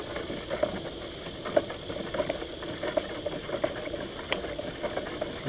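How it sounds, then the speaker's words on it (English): A big 5-gallon paint stir stick churns sugar water for feeding a bee hive, making a steady, close sloshing swirl with soft irregular knocks and patters and no talk. "We're going to mix that up real good. And I'm just using a big stir stick, a 5-gallon stir stick."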